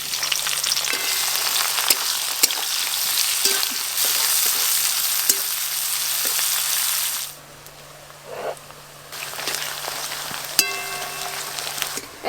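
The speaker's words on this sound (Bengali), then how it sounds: "এই দেখুন পেঁয়াজগুলো ভাজার পর গোল্ডেন ব্রাউন কালার চলে এসছে" A bowl of chopped onions fries in oil for chicken biryani, with a loud, steady crackling sizzle close by that dips briefly partway through, plus occasional clicks of a utensil and no talking.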